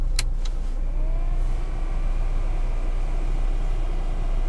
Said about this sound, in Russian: Хотел дать вам послушать, как печка шумит.